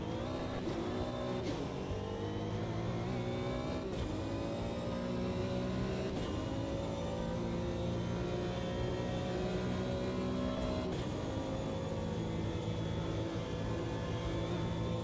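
A Porsche race car in Automobilista 2 drones steadily at high revs, its engine note sweeping up and down through gear changes over a continuous, fairly distant-sounding roar with no pauses.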